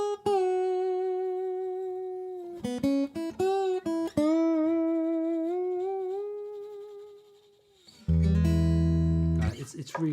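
Slide guitar played acoustically with the microphone rolled off, sustained sliding notes that bend and glide, with short plucked bursts in the middle and a louder low strummed chord near the end.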